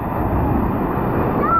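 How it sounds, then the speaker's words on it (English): Big waves in a water-park wave pool at Mango Ranch, Valencia, Negros Oriental, make a brief, loud, broad rushing wash with wind buffeting the microphone. "It's big waves."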